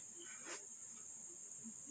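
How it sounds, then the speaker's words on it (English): A grasshopper sings in a meadow with a steady, high, continuous buzzing drone that runs throughout, joined by a brief brighter chirp burst near the middle; the whole is faint and distant. "The grasshopper sings very joyfully"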